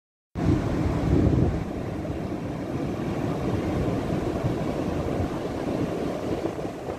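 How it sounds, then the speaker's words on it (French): Steady wind at the Brittany seaside on a sunny morning after rain, a constant broad rush with possible surf beneath, loud and close to the microphone, no voices. "Il y a un peu de vent, mais il fait très beau."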